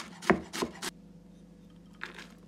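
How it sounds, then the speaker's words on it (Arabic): Three quick knife chops through a medium onion on a board, close and crisp, followed by a pause and one fainter cut. "وبنرجع بنفرم البصلة"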